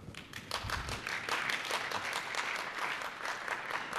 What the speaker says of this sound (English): there's ever a time to applaud.